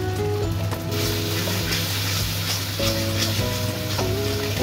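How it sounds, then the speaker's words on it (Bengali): Chili powder, turmeric and green chilies frying in a pan for a mutton curry, a steady sizzle under background music, with occasional stirring scrapes. "ভালো করে আমি মশলাটা কষিয়ে নেব"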